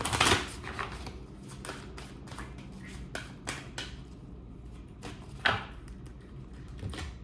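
Tarot cards being shuffled by hand make soft, quick riffling and tapping bursts at irregular intervals, close and quiet, with a couple of sharper flicks standing out above the low room hum.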